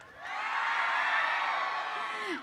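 An audience on a campus cheers and whoops for Mallareddy, a sustained, loud crowd roar of yells that swells quickly and holds steady before easing off.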